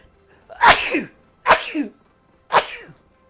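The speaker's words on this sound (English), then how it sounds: "Try not to sneeze down the bloody mic." Three loud sneezes in succession, each a sharp burst with a trailing tail, spaced about a second apart, close to the microphone.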